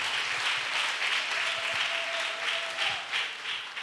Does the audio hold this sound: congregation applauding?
yes